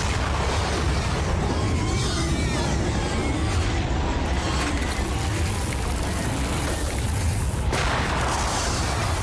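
Landmine blasts in a Telugu action film scene: a dense, continuous roar of rumbling explosions and debris, loud and sustained for the whole stretch, with a sharper burst near the end.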